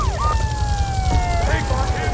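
Police car siren in the video game GTA III, a wavering electronic wail sweeping up and down steadily under game engine rumble, loud and close throughout.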